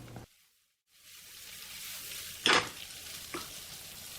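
Fried rice with egg and pieces of fish sizzles in a hot pan while a utensil scrapes and stirs, with one sharp clatter partway through.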